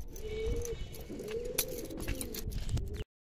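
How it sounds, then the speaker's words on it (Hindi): Old caged pigeons coo softly in a steady, low rolling murmur, close by and fairly quiet. "ये सारे हमारे पुराने कबूतर हैं"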